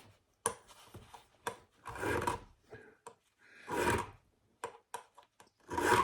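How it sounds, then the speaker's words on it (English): A metal file cuts small grooves into the end of a birdcage awl blade, heard up close as sharp scrapes, some short and some drawn out, with pauses between the strokes. "what I'm doing here is I'm just filing a couple of little grooves into the end of the blade, the Birdcage Awl blade"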